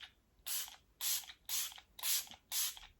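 MILK makeup setting spray mists onto a face in five quick, evenly spaced hissing bursts, close and crisp against a quiet room with no talking.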